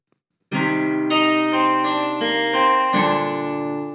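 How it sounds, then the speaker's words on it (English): Sampled guitar chords played through a telephone ring out one after another, smeared by a short, boxy bathroom reverb effect that makes them sound as if played in a small tiled room. "room is basically a bathroom reverb that I made"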